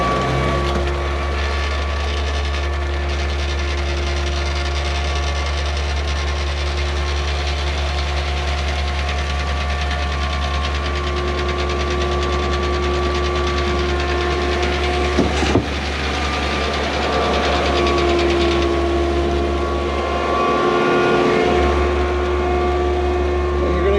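A shotcrete boom pump runs in a loud, steady drone with a deep low rumble and tonal whine, briefly knocking and surging midway, the noise continuous and close.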